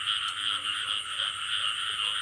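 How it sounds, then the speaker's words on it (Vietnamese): Dense chorus of frogs calling at night in the rain during a frog-catching outing in rural Vietnam, steady overlapping high trills and croaks filling the whole stretch, loud and continuous with no talking. "Nhái quá kêu cả nhà ơi."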